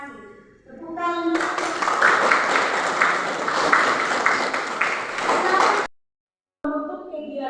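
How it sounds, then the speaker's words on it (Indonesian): Classroom applause in a Catholic religion and character education lesson, a burst of hand clapping from the pupils lasting several seconds before cutting off, with a teacher's voice heard briefly before and after. "Tepuk tangan."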